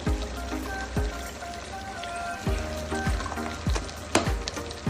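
Chicken frying with chili powder and coriander powder over a medium flame for Nellore chicken biryani, a steady sizzle with repeated scraping stirs at irregular intervals, close and fairly loud.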